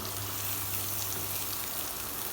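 Veal tenderloin fries in a pan with a steady, dense sizzle. The crackling hiss is loud and continuous from start to finish, and no voices are heard.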